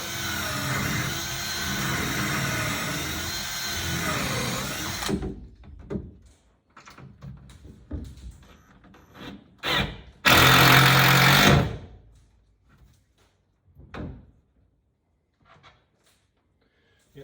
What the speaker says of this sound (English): So we're going to screw this down into this rail here.